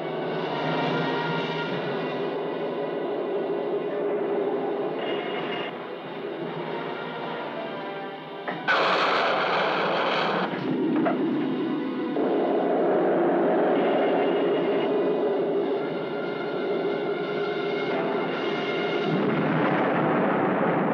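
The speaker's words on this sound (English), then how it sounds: "Right rocket ports open. Full thrust, Doctor." Sci-fi movie spaceship rocket thrust at full power, a continuous loud roaring rumble that shifts in tone and surges midway, with no talking over it.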